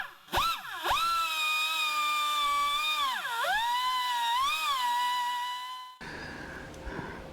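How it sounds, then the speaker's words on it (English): A power grinder flattens the textured surface of a tire before a patch goes on, making a loud, close tonal whine that dips and rises in pitch as the tool bites into the rubber, then cuts off, leaving faint shop noise. "We're gonna have to grind that flat before we put a patch on there."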